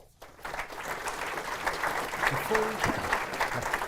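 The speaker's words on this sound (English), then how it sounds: "I'd like to invite you to give them a round of applause to welcome them." Audience applause welcoming a panel at a 2016 election event: clapping starts abruptly and builds into a steady patter from a seated crowd, with some low background sound underneath.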